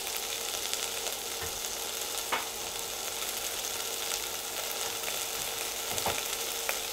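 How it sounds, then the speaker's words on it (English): Onions fry in oil in a large pan, a dense, even sizzle that crackles continuously at moderate level with occasional faint pops, no voices over it. "Get the onions cooking, we're just trying to take on a bit of colour."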